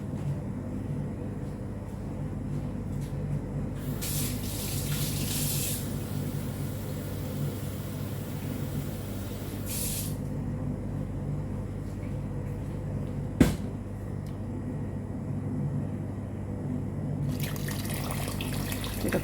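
Water pours steadily into a cooking pot for rice for chicken machboos, a continuous close rushing with a single sharp clink midway.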